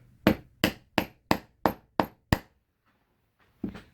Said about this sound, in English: and then I'm going to hammer it.